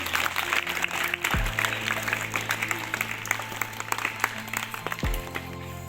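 An audience applauds to welcome a speaker at a primary school felicitation ceremony, giving steady, sustained clapping with low held musical tones droning underneath throughout.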